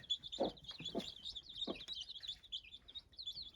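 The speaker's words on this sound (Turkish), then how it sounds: "15 tane civciv var arkadaşlar" Fifteen chicks of a Gurk hen peep constantly, high thin cheeps overlapping in a rapid, busy chorus, with a few soft low rustles and knocks nearby.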